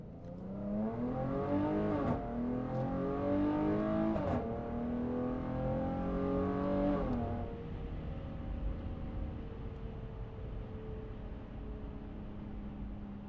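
A 2023 Dodge Challenger GT with a K&N intake climbs through several loud revs in quick succession, each pitch rising then dropping, before settling into a low steady idle rumble.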